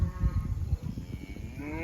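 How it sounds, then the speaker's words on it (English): Cows bawl for their calves during a cattle drive to recovered pastures in extreme drought, a low, loud lowing and mooing from several animals that carries on steadily throughout, with no talk over it. "They're bawling for the calves."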